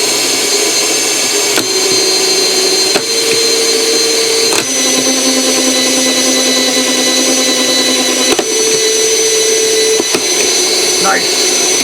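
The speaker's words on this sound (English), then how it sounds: "this is how I test the gearboxes. I use my drill." A power drill with a custom fitting spins a plunger gearbox, giving a steady high whine whose pitch steps up and down as it runs through the gears, broken by short clicks at each shift.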